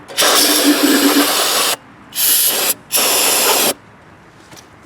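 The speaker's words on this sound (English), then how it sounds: "I want to take some of this cleaner and just clean down in here." Three loud, close hissing bursts of carburetor cleaner aerosol sprayed onto a Kawasaki 9HP engine on a John Deere GX75 mower, a long blast followed by two shorter ones with brief gaps, and no talking.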